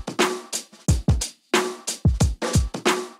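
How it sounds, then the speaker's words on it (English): Drum loop played back dry for a compressor demo, a punchy close kit pattern with deep kick hits and sharp snare and hi-hat strikes in a tight repeating groove, loud and with no talking. "The drum loop sounds like this."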